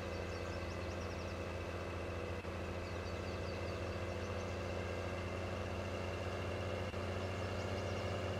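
A truck with a flatbed on the back idles in Farming Simulator 19, a steady, loud, even engine drone holding constant throughout with no talk over it.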